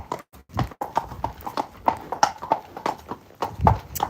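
Friesian horses' hooves clip-clop on the road through Cartmel village in a steady, close, even walking rhythm of sharp distinct strikes, with only faint voices in the background.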